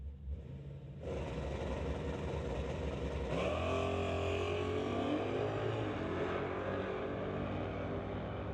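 Drag race cars, including a Challenger, launching down the strip in a street legal race tire class, a steady roaring engine drone that jumps louder and rises in pitch as the cars accelerate away, with no talk.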